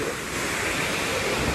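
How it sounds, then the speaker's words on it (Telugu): Water surges through the opened gates of Penakacherla Dam in Anantapur, a loud, dense, unbroken roar that fills the short stretch without any voices. "వాటర్ సౌండ్ బీభత్సంగా ఉంది కదా."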